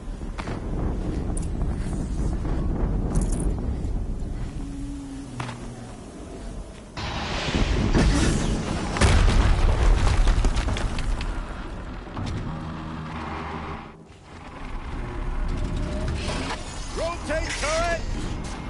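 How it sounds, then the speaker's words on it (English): Explosion in the video game Horizon Zero Dawn on PS5: loud, dense broadband roars and crashes fill the clip, with a dip near fourteen seconds, over game music and effects. "explosion."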